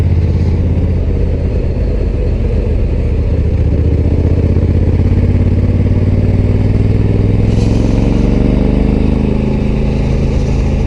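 A Honda Africa Twin Adventure Sports motorcycle cruises at a steady moderate pace during break-in, its engine droning loud and constant under heavy wind rush from an onboard position.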